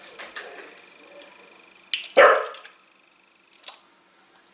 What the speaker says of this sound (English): Here we have my dog making his noises